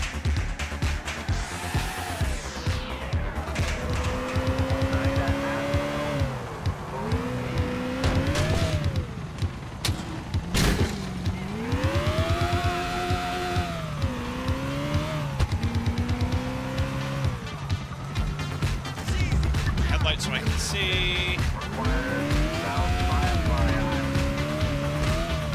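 A '91 Lincoln Town Car with pro touring upgrades driven hard in GTA IV, its engine droning and rising and falling through revs while tires squeal and skid in repeated bursts, loud and continuous with a brief whoop of voice.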